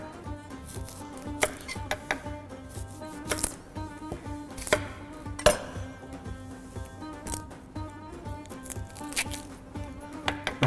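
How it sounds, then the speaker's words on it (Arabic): Onion being cut with a knife on a board into very thin slices, a steady run of quick, crisp chopping taps at close range, fairly quiet with no voices. "رح نبلش نقطع البصل"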